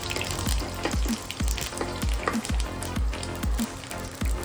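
Mustard seeds and curry leaves crackle and sputter in hot oil and ghee, a steady close sizzle broken by repeated sharp pops and spatters, with no voices.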